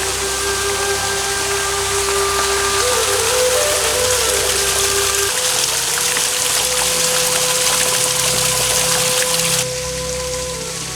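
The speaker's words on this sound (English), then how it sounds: "First impression is a beautiful waterfall right when you walk in" A waterfall at Rock City Gardens in Chattanooga pours in a steady, loud rushing roar that fills the whole stretch without pause, with no voices over it.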